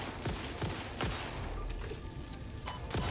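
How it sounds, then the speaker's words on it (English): Repeated gunshots during skeet shooting in the video game Satisfactory, sharp cracks roughly every half second over a steady background hum of game ambience. "let's go skeet shooting"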